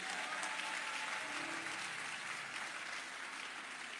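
Steady applause from a large audience at a sermon, a dense continuous wash of clapping that holds at even strength from start to finish with no voices rising above it.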